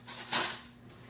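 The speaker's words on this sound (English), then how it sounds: "I'm just going to clean down the sides of my pots and make sure that there's no sugar left around the rim." A small brush scrapes around the sides and rim of a pot while candy sugar is being made, giving a brief close scratchy stroke that peaks once and then fades.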